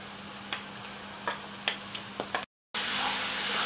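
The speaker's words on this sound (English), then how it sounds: "At this moment we will just add marinated prawns." Marinated prawns hit a hot pan with onions and sizzle with a steady close hiss, broken by a few light clicks of the pan, then swell into a louder, fuller sizzle.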